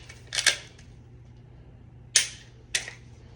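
Three sharp, dry trigger clicks from a handgun during dry-fire practice, one near the start and two close together later, each crisp and near, separated by quiet pauses over a low hum.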